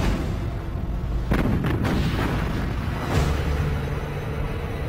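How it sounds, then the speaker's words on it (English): The battleship Bismarck fires its heavy guns at Hood in deep, booming blasts that stand out over a constant low rumble, with several shots in close succession followed by another. "Bismarck opens fire."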